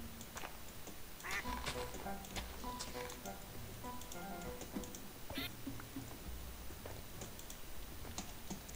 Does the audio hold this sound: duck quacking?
yes